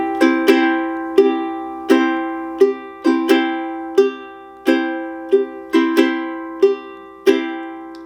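Ragtime ukulele strumming with a quick flick on beat one, played as about a dozen bright, ringing strummed chords in a lively measured rhythm, close and clear with no talking.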